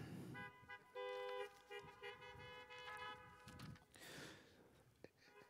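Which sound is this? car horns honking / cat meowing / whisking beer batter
car horns honking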